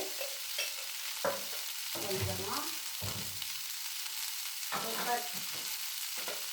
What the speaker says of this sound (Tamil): நல்லா இதிலே வேகிற அளவுக்கு வதக்கிடணும்